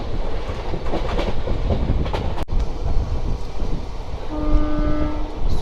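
A special express train rumbles steadily past close by on a curve, with a broad continuous roar, a sharp clank midway, and a horn sounding near the end.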